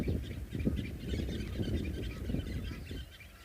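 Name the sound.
birds calling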